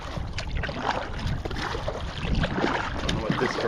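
A kayak paddles through water at Pages Creek Park in North Carolina, with continuous splashing and rushing water mixed with wind buffeting the microphone, close and fairly loud.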